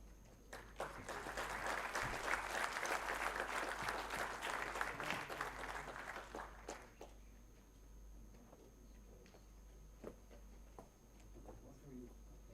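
Audience applause at a memorial lecture in Jaipur, a dense steady clapping from a full hall that swells for about seven seconds, then fades into scattered faint claps and room noise.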